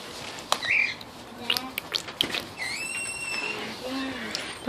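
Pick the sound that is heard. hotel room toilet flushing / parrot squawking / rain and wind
parrot squawking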